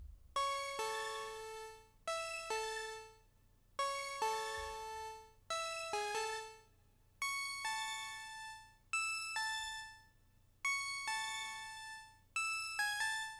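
Bell-like synth counter melody from an FL Studio beat, clean plucked notes in repeating phrases with short gaps between them, clear and alone over a faint low hum.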